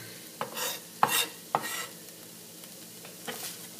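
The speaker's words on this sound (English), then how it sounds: "we've got just about another minute for our onions to saute" Onions sauteing in a pan for a blended cauliflower soup: a quiet steady sizzle with several sharp scrapes and clatters of a utensil stirring, no voices.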